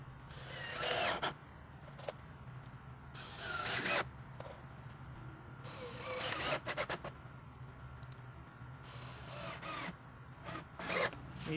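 Power drill driving 2.5-inch star-head deck screws into wooden stringers outdoors in a backyard, several short bursts of whirring and grinding separated by pauses, close and fairly loud.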